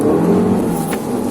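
A Fiat 500 Abarth's turbocharged engine revs hard under acceleration, a loud, close, rising mechanical drone heard from within the car with no talk.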